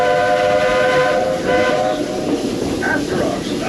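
The Walt Disney World Railroad train rolls along with a loud, steady rumble and rail clatter, heard from on board, while a long, sustained horn or whistle tone sounds over the running noise.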